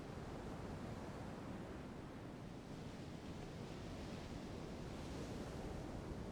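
Sea waves wash against a rocky shore in The Council video game, a steady, soft broadband surf with a hint of wind, continuous and fairly faint, with no voices.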